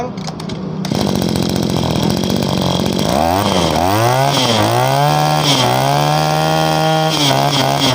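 Used Japanese-import brush cutter two-stroke engine starting up, then revving in repeated throttle swells between idle and high speed, loud and close with no one talking.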